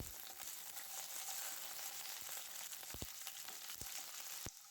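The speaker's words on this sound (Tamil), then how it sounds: "பூண்டை ஆட் பண்ணி நல்லா ஃப்ரை பண்ணிக்கலாம்." Garlic frying in oil with cloves, cinnamon, bay leaf and cardamom for rava kichadi, a steady close sizzle with occasional pops and stirring clicks, no talking.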